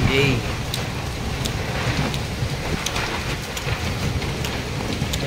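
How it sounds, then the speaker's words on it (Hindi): Rain falls steadily outdoors with a continuous hiss and scattered drops, while a person talks intermittently over it. "गाय देखो वर्षा होची देखो"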